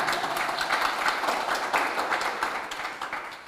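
Conference audience applause, a dense, steady wash of many hands clapping that carries on throughout and eases slightly toward the end.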